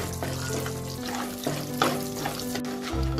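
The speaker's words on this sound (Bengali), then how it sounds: "এবার এই তেলে আমি বিউলির ডালের কয়েকটা বড়ি ভেজে নেব।" Urad dal bori, small lentil dumplings, frying in oil for a climbing perch and cauliflower curry, giving a steady close crackle with soft stirring clinks and a low hum underneath, no voices.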